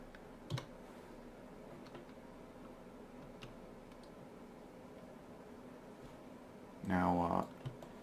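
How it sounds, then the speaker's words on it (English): Scattered keystrokes on a computer keyboard while shortcuts are entered in Blender: a few isolated taps spaced seconds apart, then a quick burst of clicks near the end, all over a steady background hiss. "So type R, then type X, then type 90 on the numbers that are above the keyboard."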